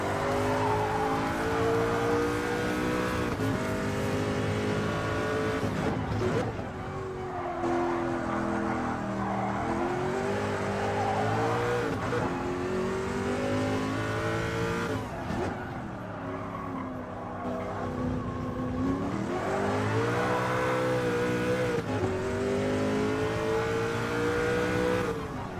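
A Group C race car laps a track, its engine wailing up and down through gear changes, rising to loud high-revving runs, dropping on lifts and downshifts, then climbing again repeatedly at close range.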